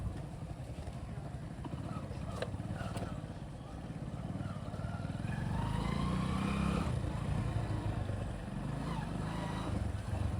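A motorbike engine running nearby, a steady low rumble that grows louder and rougher partway through as it revs, with outdoor background noise around it.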